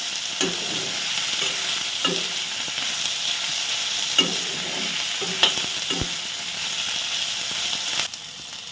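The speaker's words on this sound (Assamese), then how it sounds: "এতিয়া মছলাখিনি দিওঁ জিৰা জালুক আদা নহৰু এইখিনি দিওঁ তেলত মই একেলগে গোটেই ভাজি লওঁ" Cumin, chili, ginger and garlic frying together in oil make a steady close sizzle, punctuated by regular clinks and scrapes of a stirring spoon, then drop off near the end.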